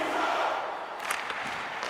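Loud roaring crowd in a hockey arena from the video game NHL 25, a dense sustained cheer with a few sharp shouts and whistles rising through it, close and filling the space.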